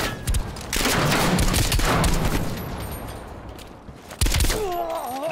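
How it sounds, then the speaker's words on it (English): Gunfire in Call of Duty Black Ops Cold War, loud dense bursts of shots and booming impacts with a sustained noisy battle roar, then another sharp burst near the end. "Who's shooting at me from a distance?"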